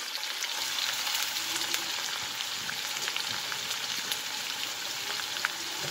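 Steady, close sizzling of finely sliced onion frying in a hot pan, a dense crackle that holds evenly throughout with no voices.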